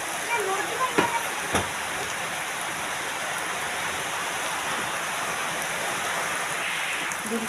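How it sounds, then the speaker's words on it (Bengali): Egg poured into hot oil in a pan on a stove, frying into an omelette for a Bengali egg curry; a steady, moderately loud sizzle runs throughout with a couple of brief clicks near the start and no talk. "ডিমটা ঢেলে দিই।"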